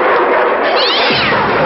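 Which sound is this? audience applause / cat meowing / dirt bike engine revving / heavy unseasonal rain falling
cat meowing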